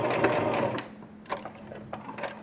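A sewing machine stitches fabric for a mask, a short rapid whirring burst of needle chatter followed by quieter intermittent clicks and mechanical taps as the run stops, close and clear.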